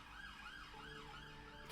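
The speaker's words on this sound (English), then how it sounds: "Excuse the siren if you can hear it." A wailing ambulance-type siren sweeps up and down outdoors, faint and distant, rising and falling in slow repeated cycles with a steady tone underneath, no talking.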